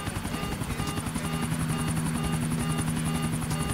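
A damaged helicopter in GTA IV thumps its rotor rapidly and steadily with a droning engine hum, a rough, slightly rattling tone throughout.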